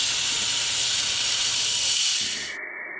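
An Instant Pot cooking a pot roast vents steam in a loud, steady hiss from its pressure release valve, which cuts off abruptly after a couple of seconds.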